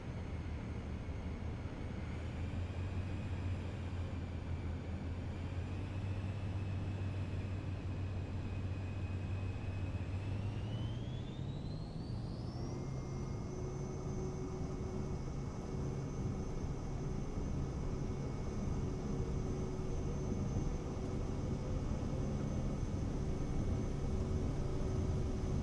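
An airliner's engines spooling up for takeoff in Microsoft Flight Simulator 2020, a continuous droning whine and rumble that climbs in pitch partway through, then holds steady and loud; no talking.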